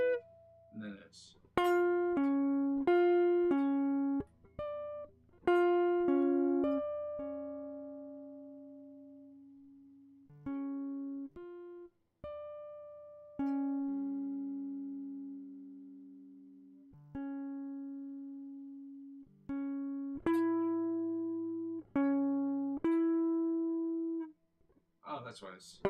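An electric guitar riff is practised slowly, one plucked note at a time in short clipped phrases with gaps between, each note ringing clearly and fading, played alone.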